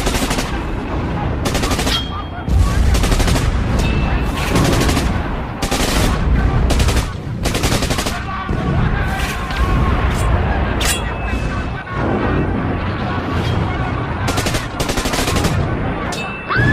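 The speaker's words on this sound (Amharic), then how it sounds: "ተኩሱም ከፍተኛው ተኩስ የበለጠ ሆነ።" Heavy battle gunfire with rapid machine-gun bursts and repeated rifle shots, dense and loud throughout, from a battle scene in a documentary about the Battle of Adwa between Ethiopian and Italian forces.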